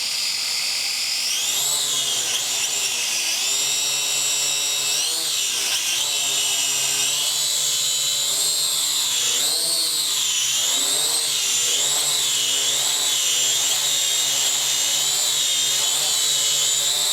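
The propellers of a Syma X5HW FPV quadcopter drone whine in flight, a loud, close, high buzz that rises and falls in pitch as the drone speeds up and slows down, running steadily throughout.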